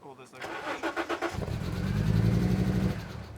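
A 90s Fiat Coupe that won't stay running cranks with a few rhythmic turnover pulses, then catches and settles into a loud, rough, uneven idle close to the listener.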